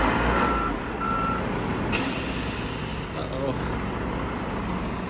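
A concrete truck stuck in mud idles with a steady diesel rumble while a reversing alarm beeps in a short series, and a brief air-brake hiss cuts in midway; voices are faintly present.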